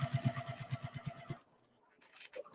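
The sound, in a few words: sewing machine chain sewing, run with foot pedal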